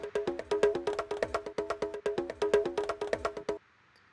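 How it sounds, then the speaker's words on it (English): A busy percussion loop of rapid, evenly spaced hits with ringing pitched tones, playing steadily for a few seconds and then cutting off abruptly. "I've selected the slice mode and thrown a percussion loop in there"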